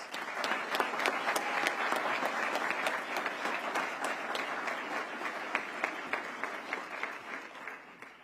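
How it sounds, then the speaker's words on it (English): Steady applause from a sizable crowd, dense clapping sustained throughout at a moderate distance, with no talking over it. "Give him a round of applause."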